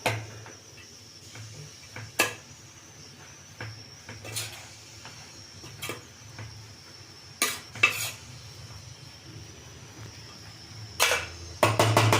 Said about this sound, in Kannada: ಈಗ ನಾನು ಅದಕ್ಕೆ ಕಾಯಿ ತುರಿ ಹಾಕೊಳ್ತಾ ಇದ್ದೀನಿ